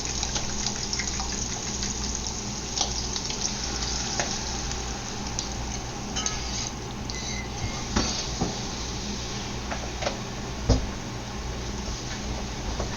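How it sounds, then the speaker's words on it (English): Whisked egg mixture for Chinese-style scrambled eggs with shrimp hits a hot pan and fries, a quiet continuous sizzle with faint scraping and clinks of stirring, no talking. "we're gonna pour the egg mixture in"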